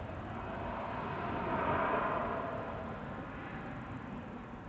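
Faint, distant airliner departing Manchester Airport, a steady low rumble swelling gently and fading in the background.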